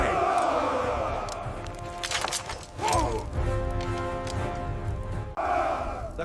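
A dramatized angry crowd shouts and jeers, with a mass of overlapping voices, cries and some crashing noises continuing throughout at a steady, fairly loud level.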